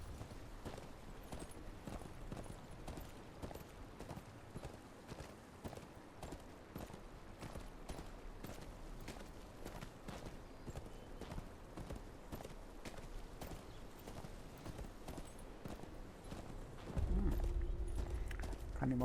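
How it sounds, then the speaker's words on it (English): Horse hooves clip-clop at a steady walking pace in the Game of Thrones Kingsroad video game, a continuous moderate rhythm over ambient game sound, swelling louder with a low hum near the end. "Where's your horse? Mount up and let's go."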